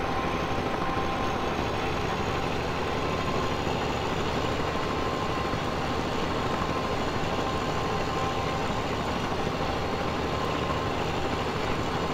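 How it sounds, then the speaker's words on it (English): A steady, dense engine drone rumbles without pause, like a helicopter hovering nearby in the video game Farming Simulator 17, constant in loudness throughout. "Oh, there's a helicopter."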